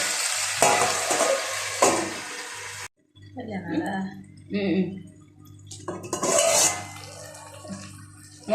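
Tomatoes frying in a covered pan, a continuous sizzle with lid and utensil clinks, broken by a short silent gap, while people talk over it.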